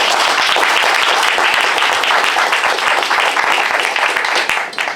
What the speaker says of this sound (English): we should give them a round of applause for that thinking.